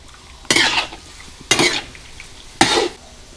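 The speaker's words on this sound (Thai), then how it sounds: "ผัดคลุกเคล้าให้เข้ากันครับ" Eel pieces being stir-fried in a wok for a spicy Thai dish, with three distinct scraping, sizzling stir strokes about a second apart, close and fairly loud over a quiet kitchen background.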